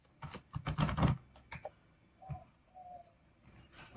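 Typing on a computer keyboard while writing HTML: a burst of close, clustered key clicks followed by a few scattered taps, with a faint bird cooing in the background.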